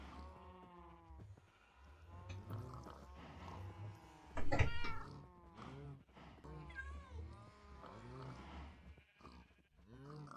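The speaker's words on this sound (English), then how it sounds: "Enjoy the sound of cats." Three pet cats, black, white and yellow, meowing repeatedly in a Minecraft game, overlapping mews and drawn-out cries close and steady, one louder yowl midway.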